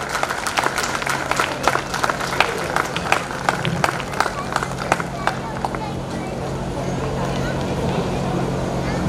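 A crowd applauds at a 2019 Ambedkar Jayanti event, with bursts of clapping rising and fading while an announcer keeps talking over the steady background noise of the hall.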